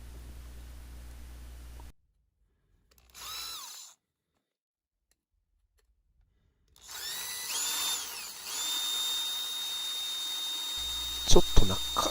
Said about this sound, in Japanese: ではホールソーで穴を開けていきたいと思います。